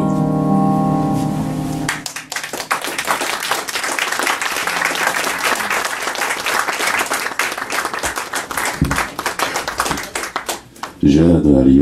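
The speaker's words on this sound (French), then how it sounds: "Applaudissez-la encore une fois, s'il vous plaît, mesdames et messieurs." An audience applauds after a song at an evening show, a dense burst of clapping that follows the last notes of music and continues for several seconds, with a voice speaking over it.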